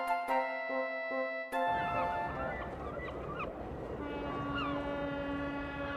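A slow goods train in a Thomas and Friends episode sounds its whistle in short blasts, then rolls on with a rumbling, clattering run under sustained horn-like tones.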